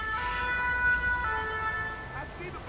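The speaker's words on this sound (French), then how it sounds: "il y a les marins-pompiers là qui arrivent" A fire brigade siren wails as marine firefighters arrive at a police station attack scene in GTA modded with LSPDFR. The tone is loud and steady, held over a continuous engine and traffic rumble.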